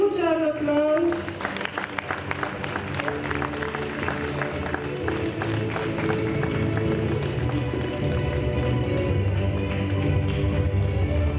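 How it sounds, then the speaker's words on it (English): An audience at a children's school annual day gives a round of applause: a dense, steady patter of many hands over background music and crowd murmur, continuing throughout. "Rishan from Playgroup, a huge round of applause"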